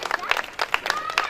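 An audience at a comic poetry recital claps in a brief, scattered burst, moderately distant, with a voice speaking over the applause.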